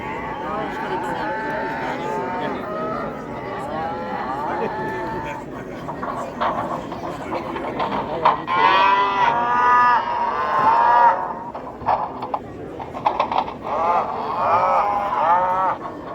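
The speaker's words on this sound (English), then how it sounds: "The cows aren't happy the train derailed." Cattle mooing at a model train layout at a train show, several drawn-out moos rising over crowd chatter and people talking nearby, louder toward the end.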